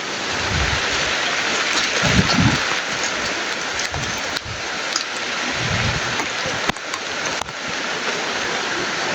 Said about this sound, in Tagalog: Medyo maulan.